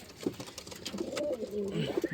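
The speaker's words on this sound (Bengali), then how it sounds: "এটা হচ্ছে লাল শিরা কবুতর" Soft, low cooing of a red pigeon repeats in short rolling phrases, close by, with faint background noise.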